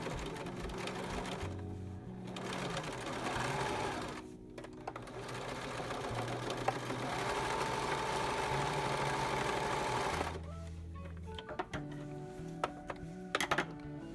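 Near and steady, a sewing machine hums and rattles through long runs as it stitches a nose piece onto the front of a fitted face mask, pausing briefly twice before going on.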